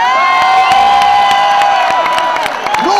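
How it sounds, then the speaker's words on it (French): A large crowd at a Paris theatre event cheers and whoops loudly and continuously, with shouting voices and scattered claps blending into a dense roar. "je vais vous demander d'applaudir les citoyens des autres pays"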